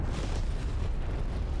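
A strafe run airstrike in Call of Duty Cold War, heard as a dense, continuous low rumble of explosions and gunfire, loud and unbroken across the whole moment with no talk.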